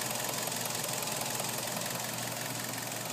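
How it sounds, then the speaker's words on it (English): A 2010 Kia Forte LX sedan with a manual transmission idles steadily for about three seconds, a constant mid-pitched engine hum with a faint rhythmic ticking, heard close up and alone. "let you listen to the engine for yourself"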